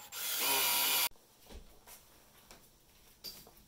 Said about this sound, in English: I'm going to drill some holes in the silicone case.